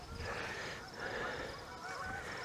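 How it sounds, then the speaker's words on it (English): Migrating geese honk repeatedly as they fly over an outdoor beekeeping yard, a steady chorus of calls that sits in the background, somewhat distant but clearly audible throughout. "So they're honking and honking as they fly over."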